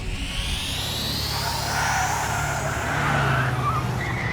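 Car boost in the video game Kuro no Kiseki: a loud rising engine roar with squealing tires and skidding, sustained and close for a few seconds.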